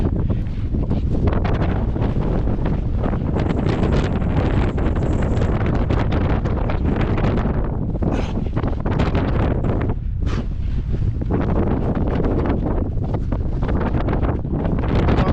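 Strong, constant wind on a mountain near the summit of Granite Peak, Montana, buffets the microphone in heavy roaring gusts, loud and close throughout, with no talking.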